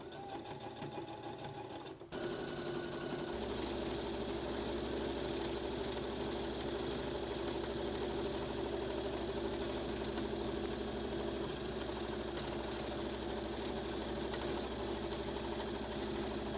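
A sewing machine stitches down a skirt side seam to the hem, starting after a brief pause and then running steadily for a long, continuous, fast mechanical whir with a rapid rhythmic needle chatter, close and loud.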